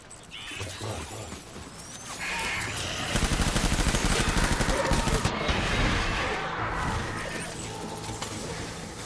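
Gunfire in the video game Death Stranding, a dense stretch of rapid shots and bursts with crashing impacts that swells in the middle and runs steadily loud under faint voice.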